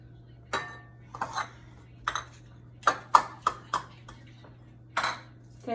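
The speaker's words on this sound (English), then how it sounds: "we're cracking it in a separate bowl instead of just going ahead and putting it into the mix" Eggs cracked into a separate bowl while making Halloween cupcakes, heard as a series of sharp clinks and taps on dishes, several close together in the middle and another near the end, over a steady low hum.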